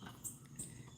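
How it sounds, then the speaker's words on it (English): Faint high chirps from birds, two short calls standing out over a steady low outdoor hum, no talking. "the birds are incredibly loud."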